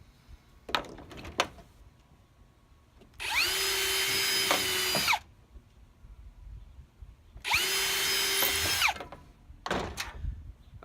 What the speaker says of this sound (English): And we're going to drill those holes real quick.